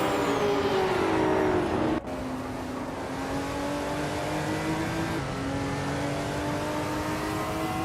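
A 1996 Mitsubishi race car engine in a racing video game whines at high revs, drops sharply on a gear shift, then climbs steadily again, loud and continuous with no talk.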